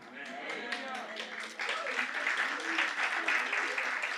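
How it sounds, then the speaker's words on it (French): An audience at a church talk breaks into applause, moderate clapping from a room full of people that swells midway and continues steadily while a voice carries on faintly underneath. "Je ne sais pas si vous applaudissez pour que je m'en aille ou pour que je continue."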